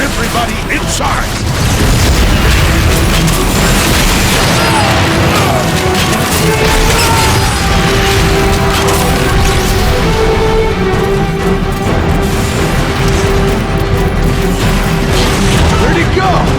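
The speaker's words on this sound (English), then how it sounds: "They're shelling the plaza! It's coming from that warp cannon." Artillery shelling pounds a plaza from a warp cannon in the Transformers: Fall of Cybertron video game, a continuous loud roar of booms and crashes filling the whole stretch with no pauses.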